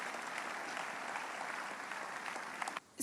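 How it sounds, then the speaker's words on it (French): A church congregation claps together in a dense, even burst of applause that stops abruptly near the end. "Applaudissons pour Jésus-Christ"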